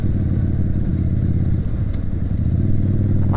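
Motorcycle engine under way in traffic, a steady low rumble throughout with the rider downshifting at slow speed, fairly loud and continuous.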